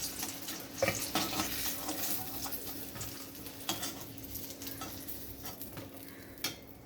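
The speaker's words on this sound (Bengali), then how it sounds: "এবার এই তেলের মধ্যে দিয়ে দেবো আমি কেটে রাখা বরবটি আর আলু" Cut long beans and potatoes hiss and sizzle steadily in hot oil in a home kitchen pan, close up, with occasional clinks and scrapes from stirring and no voices.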